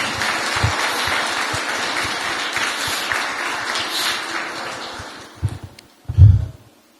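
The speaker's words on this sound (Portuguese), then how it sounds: "Dê uma salva de palmas a Ele" A church congregation at a Portuguese-language service gives a full, steady round of applause that fades off near the end, followed by a couple of low thumps.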